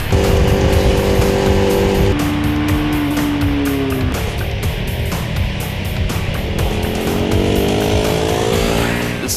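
A 2014 KTM RC390 motorcycle lapping a racetrack, its engine note loud and close, rising and falling through gear changes, with constant engine roar and wind noise and no talk.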